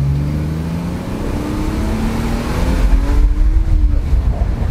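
A BMW 323ci running on ethanol accelerates hard, its engine note climbing steadily in pitch over a few seconds, loud and close, then roughening as the revs peak, with no talk.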